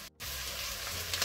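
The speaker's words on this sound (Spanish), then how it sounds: "Ahora echamos el pimiento verde" Chopped green pepper sizzles and fries steadily in hot oil in a pan for a vegetable and seafood soup base, a dense crackling hiss heard close and alone.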